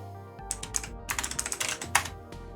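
Quick keystrokes clatter on a computer keyboard while typing a command, a close, crisp burst of uneven taps with no voices.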